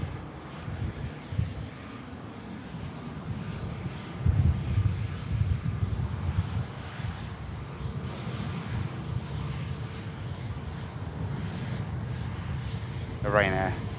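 An airliner rolls down the runway at Manchester Airport, a steady, broad low roar of engine and wind rumble that swells slightly midway and holds for the whole stretch.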